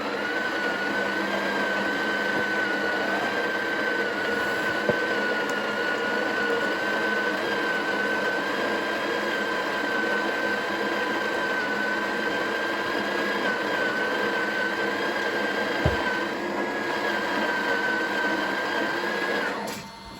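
A Breville Oracle Touch espresso machine grinds and tamps coffee automatically, a loud steady motor whine with a sustained tonal hum running unbroken for about twenty seconds before cutting off, with an occasional click and no voices.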